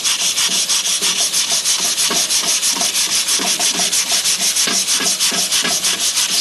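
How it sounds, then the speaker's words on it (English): Steady, rhythmic rasping of 400 grit sandpaper rubbing dry back and forth on a race car wheel, close up and continuous with no talking. "I got some 400 grit sandpaper here that I'm going to use."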